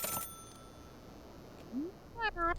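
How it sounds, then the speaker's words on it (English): Brief electronic telephone ring from the video game Celeste, a short series of bright trilling tones near the end after a faint chirp, fairly quiet over low background hiss. "All right, phone's ringing."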